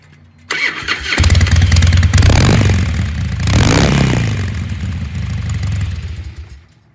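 A stock, low-mileage Indian motorcycle engine cranks and starts, then idles with a loud, rough rumble and revs up a couple of times, close by with no talking.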